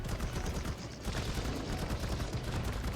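Dense, rapid gunfire in ARK Survival Evolved on the Fjordur map, a continuous close barrage of overlapping shots with no pauses.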